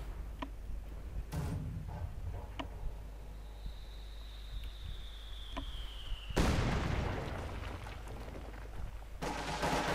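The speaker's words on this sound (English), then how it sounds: "Field gun bombarding." Field gun bombardment in the video game Company of Heroes 2: scattered booming blasts and sharp impacts, a passing whistle, then a loud sustained burst of explosive rumble near the end.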